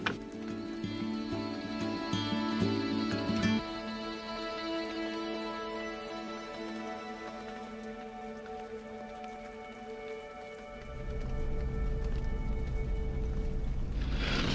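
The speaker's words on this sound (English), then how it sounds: "the rain's really starting to come down now" Steady heavy rain in New Zealand patters on a surface with a constant hiss, and a low rumbling drone that drops away, then swells back in near the end.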